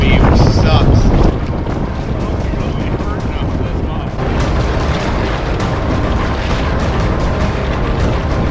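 Strong, steady wind buffets a canoe under bushcraft sail on a large northern lake, a loud continuous roar of gusts across the microphone with water noise beneath, heaviest in the first second and then holding level throughout.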